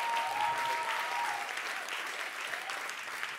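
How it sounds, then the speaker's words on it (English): Congregation clapping hands at a worship night service, a dense continuous wash of applause throughout with a faint sustained tone early on and no talk over it. "Clap your hands."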